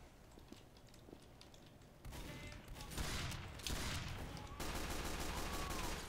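Force-a-Nature double-barrelled shotgun firing in a video game: several loud, close blasts in quick succession over steady game background noise, with a clattering mechanical reload between them.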